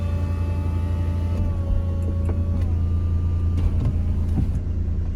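A Mercedes SLK's retractable roof runs with a steady hum and tonal motor whine that shifts pitch partway through, with faint clicks and clunks, all under a constant loud engine idle drone and no talking.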